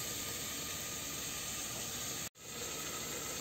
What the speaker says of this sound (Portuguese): Agora vou deixar aqui refogando um pouquinho